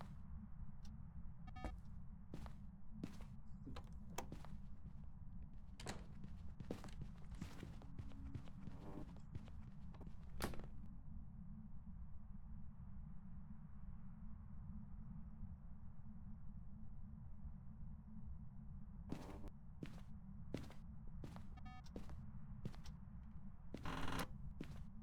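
Sharp, clicking footsteps in the Phasmophobia video game come in quick runs, first near the start and again near the end. A constant low hum sits beneath them.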